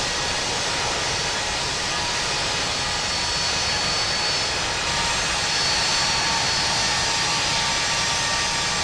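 Boeing 737 MAX 8 jet engines at takeoff power in the Infinite Flight simulator, a loud steady roaring whine that holds constant throughout with a faint high tone on top, no voices.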